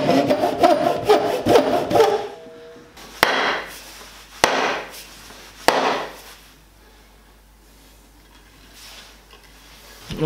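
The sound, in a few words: spokeshave shaping wooden axe handle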